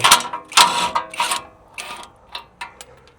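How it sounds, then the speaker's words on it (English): Ratchet working a nut loose on a tie rod of a 2012 Toyota Tacoma, a close series of sharp clicking bursts, the first few rapid and loud, then spaced, fainter clicks trailing off. "Time to get the nut off the top of it."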